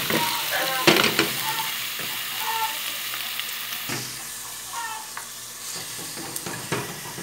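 Chopped onion frying in a thin drizzle of oil in a pan, a steady sizzle with occasional stirring scrapes and clinks, close and moderately loud, with no one speaking.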